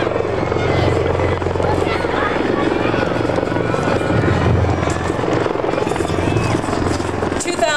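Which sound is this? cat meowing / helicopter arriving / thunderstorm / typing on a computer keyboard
helicopter arriving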